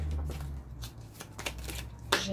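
Tarot cards shuffled by hand in several quick riffling bursts, close and fairly quiet, with a soft low hum underneath and a sharper final flurry near the end.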